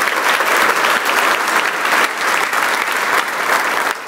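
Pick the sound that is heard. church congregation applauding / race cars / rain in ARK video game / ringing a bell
church congregation applauding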